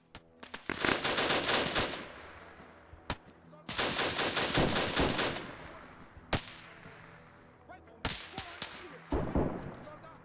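Rapid automatic gunfire in a World War One shooter comes in three long, loud bursts, separated by short pauses and scattered single cracks, with faint talk in the background.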